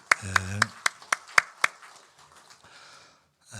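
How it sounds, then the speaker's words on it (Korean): A short burst of hand claps from a church congregation during a Thanksgiving service, a handful of sharp slaps spaced a bit unevenly, with a voice underneath, then fading to near quiet. "우리 다시 한번 우리 축복의 박수 하시겠습니다."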